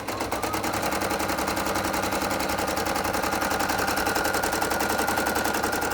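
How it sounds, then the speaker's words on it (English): Embroidery machine stitching a Renaissance-style lace pattern, a fast, steady mechanical chatter of rapid needle strokes with a whirring motor, close and continuous throughout. "starting to stitch away on the machine"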